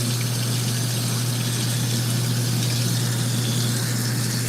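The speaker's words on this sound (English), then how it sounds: "Another spinning rinse." An LG ThinQ washer runs a spin rinse cycle on a hot whites wash with bedding, giving a steady, loud hum with a deep tonal drone and rushing water noise that continues without a break.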